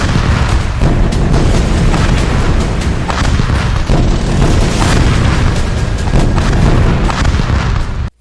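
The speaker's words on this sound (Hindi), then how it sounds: "उस अस्पताल पर भी भीषण बमबारी की गई" Heavy bombardment explosions in Gaza roar without pause, a dense, loud wall of booming blasts and rumbling detonations that crackle and overlap before cutting off abruptly at the end.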